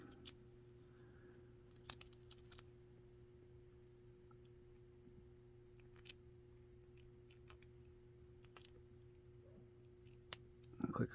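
A lock pick works the pins of a cheap deadbolt, making faint sparse clicks and ticks scattered over a quiet steady hum, with a small cluster of sharper clicks near the end.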